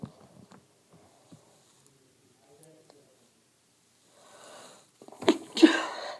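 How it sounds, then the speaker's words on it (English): A single sharp sneeze bursts out near the end after a quiet stretch with a few faint vocal sounds. "Sorry, I had a sneeze."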